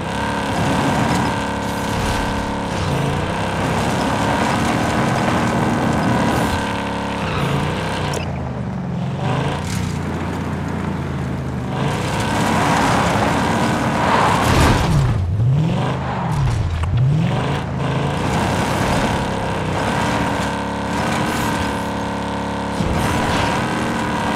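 A car driven in Call of Duty Warzone, with a steady engine drone throughout, a few pitch swings as it revs and shifts, and vehicle rumble alone with no talk.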